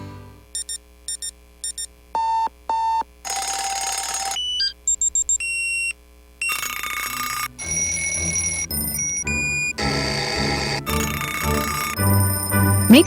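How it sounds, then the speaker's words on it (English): An alarm clock rings in a radio advert about getting children up for school: a run of clipped electronic beeps gives way to loud, sustained ringing bursts, with no voices. "Make sure your child is up with the alarm and ready for school each morning"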